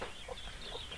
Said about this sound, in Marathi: बघू शकता तुम्ही कोंबडी आणि तिचे पिल्लं किती मस्त इथं खेळताना आपल्याला दिसत आहेत